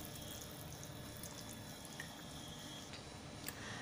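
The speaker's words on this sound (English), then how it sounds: "I'm adding that water." Water from a mixer jar poured into a pan of chicken gravy, a quiet steady trickling with faint splashes.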